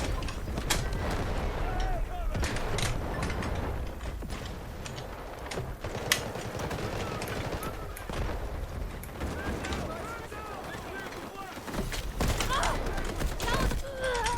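Gunfire in an online shooter game, a busy mix of sharp shots, clanks and mechanical clatter scattered throughout, fairly quiet, with a player's voice talking over it at times.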